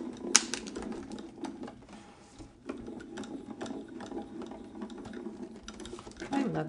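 A hand-cranked die cutting machine cuts paper with a steady, close clattering and ratcheting that runs for several seconds and swells briefly near the end.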